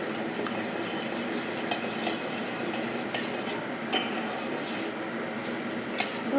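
Sweetened milk with a spoonful of sugar being stirred in a pan, continuous soft simmering hiss with a spoon scraping and clinking against the metal, close and steady.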